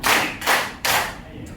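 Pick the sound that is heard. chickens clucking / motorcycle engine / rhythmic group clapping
rhythmic group clapping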